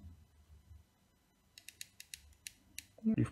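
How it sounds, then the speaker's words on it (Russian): Apple AirPods Pro charging case lid producing a quick series of small, crisp clicks as it is wiggled from side to side, fairly close and quiet, followed by a louder handling thump at the end. "Давайте пошевелим крышку в разные стороны. Слышны щелчки."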